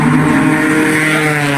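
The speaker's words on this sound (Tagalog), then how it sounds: "ingay ng motor" Motorcycle engine droning steadily and loudly close by at a street near a bonsai plant shop, a continuous harmonic hum with no voices over it.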